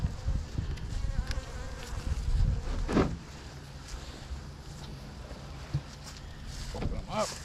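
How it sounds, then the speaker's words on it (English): A package of honeybees hums with a steady, dense buzz, close and continuous, with louder knocks and rustles from the box being handled. "What we have here is our package of bees"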